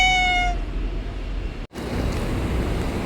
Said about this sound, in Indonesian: ada kucing mbak. Baru nemu kucing.